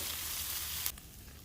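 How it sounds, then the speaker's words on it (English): Asparagus and shrimp sizzle on a Blackstone flat-top griddle, a steady close hiss that drops suddenly to a quieter simmer about halfway through. "we're going to keep cooking this around, moving the asparagus as well"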